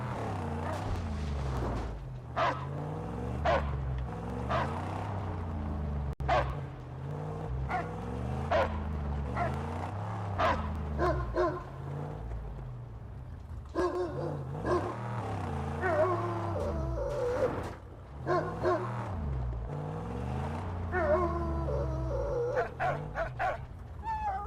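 A dog in the Mad Max video game barks repeatedly with yips and whimpers, sharp bursts in irregular runs over a steady game soundtrack.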